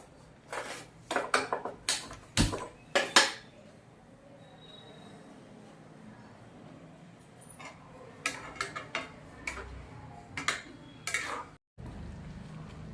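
Jaggery mango preserve stirred in a pot over a low flame, with bursts of sharp scraping and clanking from a spoon on the pot, then a quiet stretch before more stirring clatter.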